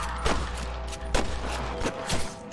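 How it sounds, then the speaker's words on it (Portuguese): Gunfire in the Red Dead Redemption video game, played on PS3: several sharp shots ring out at irregular intervals over a continuous low background rumble, with no talk heard. "Os tiros estão vindo."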